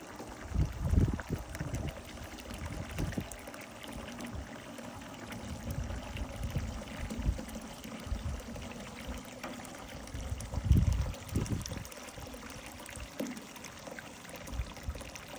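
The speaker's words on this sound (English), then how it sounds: "And I fill the rest up with water." Water pours and gurgles into an ultrasonic cleaner nearby, a low, uneven stream with bubbling surges that rises and falls for several seconds.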